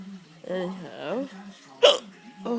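Someone speaks and sighs, then one sharp, loud hiccup bursts out, followed by a softer voiced sound, close to the microphone in a quiet room.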